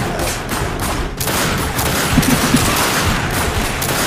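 Continuous gunfire in the first-person shooter Darkness 2, dense overlapping bursts of shots and automatic fire, loud and close, without pauses.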